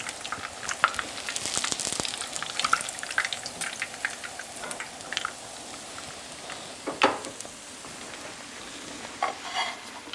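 Coconut-coated fish fillets sizzling in hot oil, a soft continuous crackle with irregular pops and occasional stirring clinks, fairly quiet and close.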